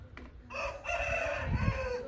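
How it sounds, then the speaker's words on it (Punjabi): A rooster crows once, a clear drawn-out call fairly close by, over low background rumble at a farm during the rice harvest. "ਕੁੱਕੜ ਨੇ ਹੰਗਾਰਾ ਭਰਤਾ"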